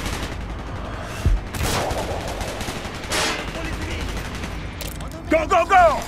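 Bursts of automatic gunfire in Call of Duty Black Ops during a stealth mission in a Russian desert, scattered rapid shots amid battle noise, ending in louder close bursts.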